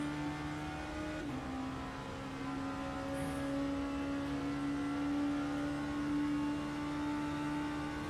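Hypercar racing engines droning steadily in the rFactor 2 Le Mans endurance race video game, a sustained mid-distance engine tone with a faint pitch shift partway, continuous and without talk.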